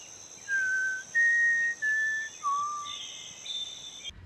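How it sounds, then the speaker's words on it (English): A short melodic whistle of the Hunger Games motif rising by a minor third, four clear sustained notes with slight pitch slides, alone and fairly close over a faint steady high hiss. "It's a short theme that occurs throughout the whole franchise and is whistled by the characters in the movie."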